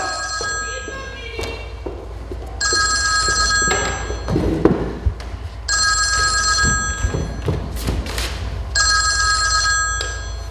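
An old-style telephone bell rings in repeated loud bursts with short pauses between them, in a room where people speak and move around, with a thump or two.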